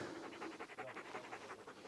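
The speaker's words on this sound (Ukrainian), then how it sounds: "це службовий собака Саймон" Rhythmic, quick panting from a service dog, about a dozen short breaths in steady succession, close and fairly soft, with no talking.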